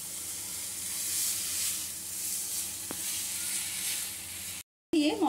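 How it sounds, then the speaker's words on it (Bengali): Fried brinjal being sautéed in masala in a pan for a Bengali fish and brinjal jhal, giving a steady close sizzle with a brief stir, then a short dropout before a faint voice. "বেগুনটা দিয়ে মশলার সাথে একটু কষিয়ে নেব।"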